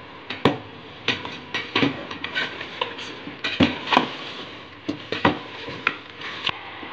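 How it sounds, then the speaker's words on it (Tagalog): A spoon stirs chicken tinola boiling in a pot, giving repeated close metallic scrapes and knocks against the sides in an uneven rhythm over a steady bubbling hiss. "Kumukulo na siya, haluin natin."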